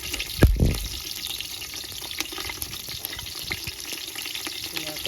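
Green chillies sizzle in hot oil for bagara rice cooked outdoors under trees in a farm field, with a sharp burst as they hit the pan, then a steady crackling fry and a few clinks.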